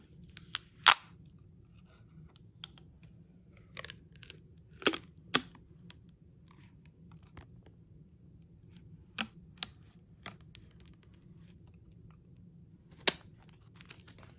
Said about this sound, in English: Going to peel off the plastic.